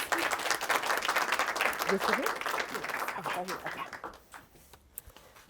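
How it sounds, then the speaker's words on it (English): An audience claps at a Houston speaking event, a dense and lively burst of applause that holds for about four seconds before tapering off into quieter room sound, with a voice speaking over it. "How about a round of applause?"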